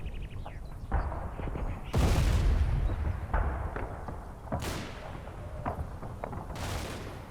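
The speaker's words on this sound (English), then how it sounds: "Yeah, machine guns seem busy." Gunfire rattles in Combat Mission: Battle for Normandy as bursts and sharp cracks land at varying distances, several loud booming volleys standing out over a continuous, busier low rumble of battle.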